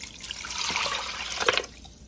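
Water pours into a soup pot that already holds broth made from bouillon cubes, a steady splashing rush that swells briefly near the end and then cuts off.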